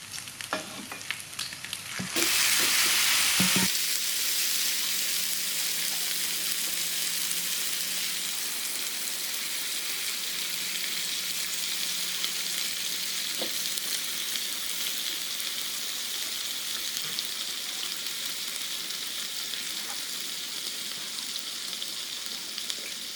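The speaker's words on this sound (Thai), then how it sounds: "เราก็จะเคี่ยวต่อไปให้น้ำงวดนะคะ" Pork ribs coated in curry paste simmer and sizzle in a wok with soup stock, a steady bubbling hiss after a brief clatter of stirring and pouring at the start.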